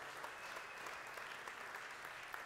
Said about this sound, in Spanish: Le das aplausos